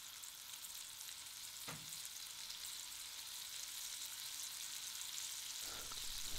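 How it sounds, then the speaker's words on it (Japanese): Foie gras sears in a hot, dry frying pan with no oil, giving a steady, fairly quiet hiss that builds slightly, with a couple of soft clicks of the slices being set down. "熱くなってからフォアグラを置いていきます"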